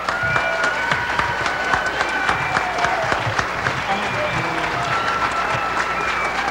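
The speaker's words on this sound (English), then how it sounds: "And a very special round of applause for him," Audience round of applause at a jazz tribute night honoring a trombonist, steady dense clapping throughout, with tonal sounds above and a few voices mixed in.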